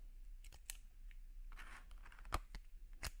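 Cutting through the plastic arm of a DJI Mini 2 drone with a bad motor: a few sharp, close snips and crunching clicks spaced over a few seconds in a quiet room.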